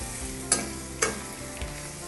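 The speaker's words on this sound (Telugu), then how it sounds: "సో ఇవి పచ్చివాసన పోయేదాకా వేయించుకుంటే" Capsicum chutney ingredients frying in a pan, a continuous close sizzle broken by two sharp scraping stirs of a spatula and a softer third one.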